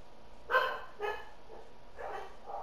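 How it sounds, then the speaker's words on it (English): A few sharp dog barks in quick succession, then a softer pair of yips and whines, heard alone at moderate distance. "Those are my own dogs."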